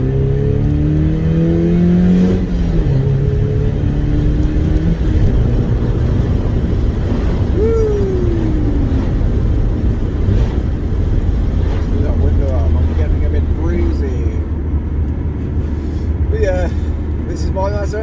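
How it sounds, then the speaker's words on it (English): A Mazda MX-5 drives along with a steady, loud engine drone and road roar, with pitch sweeping up and down as it shifts and accelerates. Tyre and wind noise fill the background throughout. "This is my Mazda MX-5, guys."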